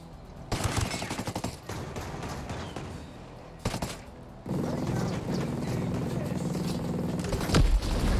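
Gunfire in the tactical shooter Ghost Recon Breakpoint, rapid bursts and sustained automatic fire crackling loudly, broken by brief lulls, with shouted voices mixed in.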